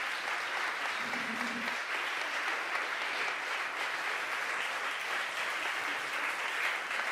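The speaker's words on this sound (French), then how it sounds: "Merci pour vos applaudissements." An audience at a conference breaks into sustained applause after a talk, a dense even wash of many clapping hands that continues steadily throughout.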